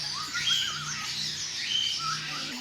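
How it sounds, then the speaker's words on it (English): Small finches for sale in a bird shop keep up steady high, thin chirps and short tweets, a busy overlapping chatter that runs the whole time without talk. "Look how beautiful the little finches."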